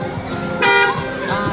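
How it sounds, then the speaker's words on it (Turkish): A single loud car horn honk from a TOGG car blares briefly in the middle, sharp and close, between stretches of background noise. "Bir korna."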